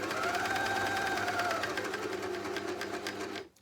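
A JUKI MCS-1500N coverstitch machine runs continuously while sewing a hem with its hemming attachment, a close, loud, even whirr that slows and stops near the end.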